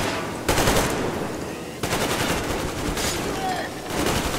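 Bursts of rapid gunfire in the video game Metro Exodus, three sharp volleys in quick succession, loud and crackling with rattling automatic fire between them.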